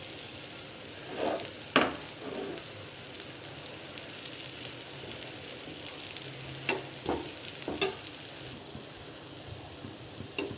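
A fasting-style dosa crisping in oil on a hot pan sizzles steadily, with a few sharp crackles and spatters standing out over the continuous frying hiss.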